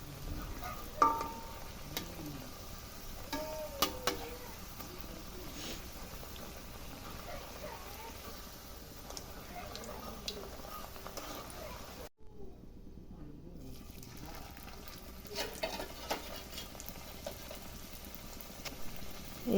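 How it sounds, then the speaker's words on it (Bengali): Pithas made from flour rather than rice flour frying in oil, a faint, steady bubbling sizzle with light clinks and stirring, briefly cutting out partway before resuming. "এখন তেল দিয়ে পিঠাগুলো ভেজে নেব।"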